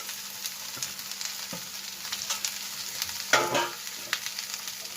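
Green chili, cabbage and spring onion being stirred in a frying pan for egg noodles: a steady sizzle with intermittent scraping clinks of a utensil, one louder scrape midway, close and without talk.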